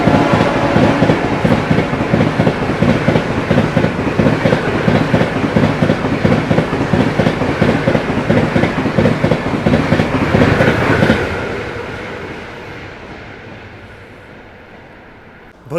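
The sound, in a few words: Bhubaneswar New Delhi Tejas Rajdhani Express train overtaking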